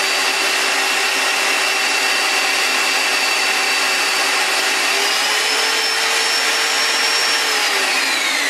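Black & Decker high speed car buffer polisher running at a steady loud whine, close up, its pitch shifting slightly near the end, with no talk.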